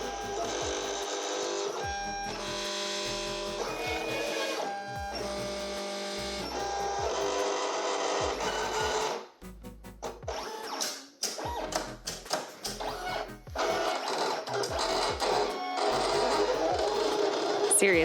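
A Silhouette Cameo 4 cutting machine cuts a printed sticker sheet, giving a steady motorized whirring and buzzing tone broken by rapid clicking and shifting carriage movements, with a brief quieter pause partway through.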